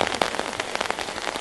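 Rain patters densely and steadily on surfaces at an outdoor opening ceremony, a close, even crackle with no speech.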